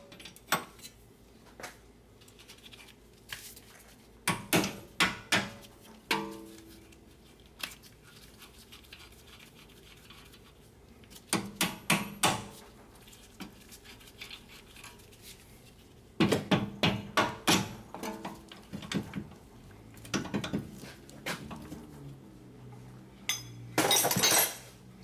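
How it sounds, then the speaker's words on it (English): A hammer tapping bolts out of a Toyota Highlander front strut, metallic clinks striking in clustered rapid bursts with pauses between, close and bright in a quiet workshop. "So once you get these nuts loose, you're gonna have to tap these bolts out."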